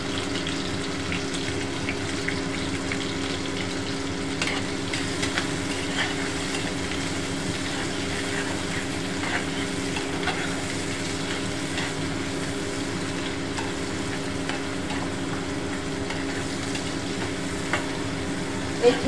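Onions fry in oil in a pan for a small-fish curry with a continuous, close sizzle that stays steady for nearly twenty seconds, with faint scraping stirs now and then and no talking.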